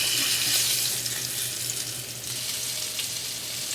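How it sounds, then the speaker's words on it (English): Mackerel fish frying in oil in a pan, with a loud, steady, dense sizzle and crackle that holds continuously and close by, and no talking. "Now we're just going to flip them over and allow them to fry on the other side."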